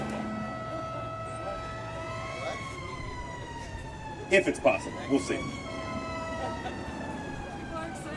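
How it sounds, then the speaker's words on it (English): An emergency vehicle siren passes during a Boeing workers' union rally in Portland, wailing steadily in the background and rising and falling in long sweeping tones while people talk over it nearby. "we're going to give the siren just a second."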